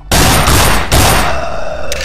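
Loud gunshots at zombies in the Survivalist video game, two heavy blasts close together followed by a shorter third shot.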